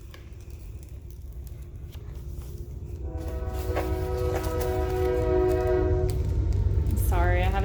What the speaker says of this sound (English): I have a train going by.